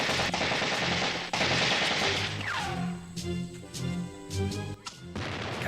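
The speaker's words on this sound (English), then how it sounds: "the American is a gun that shoots 1 billion bullets a second" Rapid machine gun fire from an oversized gun in the 1985 ninja action film, loud sustained bursts of shots mixed with crashes and ringing metallic effects, briefly broken by pauses before the firing resumes.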